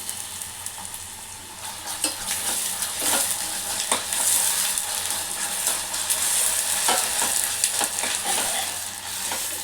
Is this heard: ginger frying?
yes